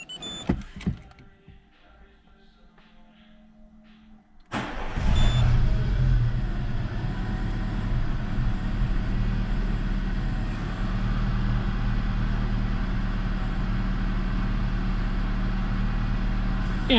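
A Peugeot 307 1.4 petrol engine cranks and catches, then settles into a steady, loud idle that runs on alone for over ten seconds after a few quieter clicks and handling noises.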